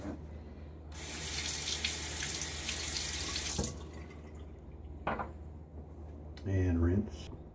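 A bathroom sink tap runs to rinse a Muhle R41 safety razor, a steady close hiss lasting a few seconds before shutting off, followed by quiet drips, small clatters and a brief voice.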